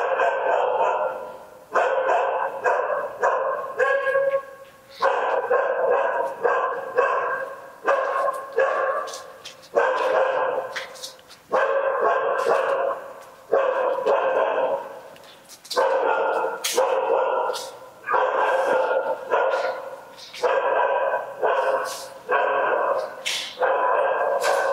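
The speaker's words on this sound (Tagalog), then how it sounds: "Ang ingay ng aso." Stray dogs bark outside an abandoned hospital at Clark Airbase, giving repeated sharp barks in irregular bursts with some yips and whimpers, loud and persistent throughout with brief pauses.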